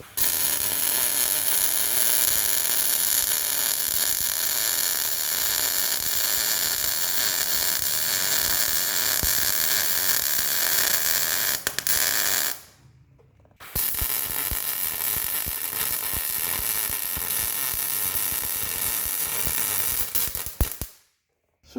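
Welding steel drive-over fenders and steps onto a car trailer frame gives a loud, steady crackling sizzle that runs for long stretches, breaks off briefly, then picks up again before stopping.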